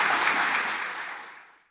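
An audience at a televised ceremony applauds the panelists, a short burst of many hands clapping that holds briefly and then fades out quickly.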